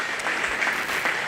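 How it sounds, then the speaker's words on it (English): An audience at a county fair 4-H and FFA sheep show gives a big round of applause, a brief dense patter of many hands clapping steadily throughout. "let's give her a big round of applause"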